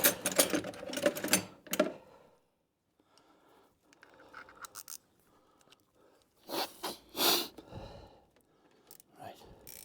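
A three-eighths socket ratchet working on a David Brown 990 tractor, heard as quick bursts of close ratcheting clicks and scrapes with pauses between them.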